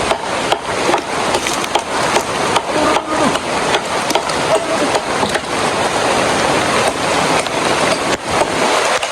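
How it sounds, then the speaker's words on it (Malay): Heavy rain pours steadily over a jungle campsite by Slim River, a dense, loud hiss with scattered sharper drips and taps on wood and gear, continuous with no talk. "So sekarang kita boleh lihat di sini kan tengah hujan kan"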